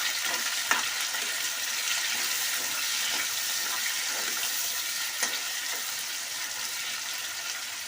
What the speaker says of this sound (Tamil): அடுத்து நம்ம வெங்காயம் போடுறோம். அதோட பச்சை மிளகாய் போடணும். பச்சை மிளகாய் போட்டு நல்லா வதங்கணும்.